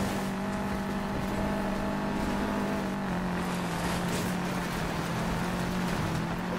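Steady engine drone of a Subaru driving off-road in Need for Speed Payback, a continuous, even hum with a low tonal note, moderately loud, with no talking.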